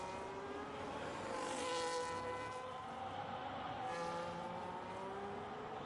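Race car in a racing video game at the Hungaroring, Hungary, with full traction control cutting in, giving a steady, loud buzzing engine whine with fluttering harmonic tones that rise and fall throughout.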